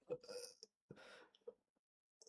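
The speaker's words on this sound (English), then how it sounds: "Cough so hard I burp." A faint burp breaks out after hard coughing from a streamer, with short throaty bursts and breathy noise separated by silences, recorded at low volume.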